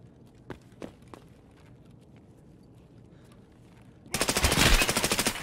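Automatic gunfire in the shooter Escape from Tarkov erupts as a loud, rapid burst near the end, preceded by a few faint scattered footsteps and thuds in an otherwise quiet stretch.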